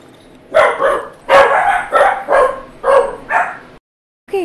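Dogs bark in the horror video game Darkwood, a close, loud series of about six sharp barks in quick succession, then a brief silence.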